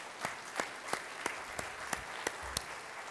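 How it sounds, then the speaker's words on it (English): Short bursts of clapping from a conference audience at a systems engineering event, about eight distinct sharp claps spaced fairly evenly over a quiet room rather than sustained applause. "I would like the leaders to applaud you, the members, and the members to applaud the leaders."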